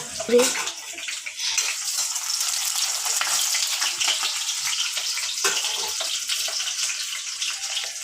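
Onions fry in a pan with a loud, steady hiss and spatter that runs unbroken, close up, and a faint voice comes through briefly near the start.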